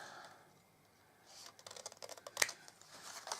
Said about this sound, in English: Just cut up the 2 ends and then just notch in on the sides.